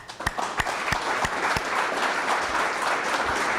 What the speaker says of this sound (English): The applause there as the CEO of WaterStep was talking late this afternoon